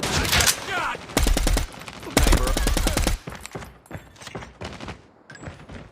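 Rapid bursts of automatic gunfire in a military shooter video game, loud repeated volleys with short pauses between them, mixed with game sound effects.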